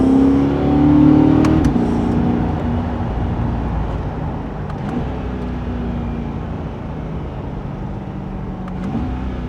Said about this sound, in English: I hope you guys can hear the downshifts.